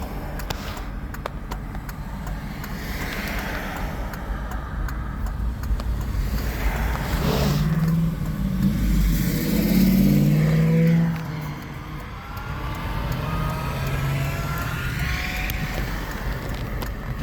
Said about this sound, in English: You see that hopped up Camaro from the late 60s?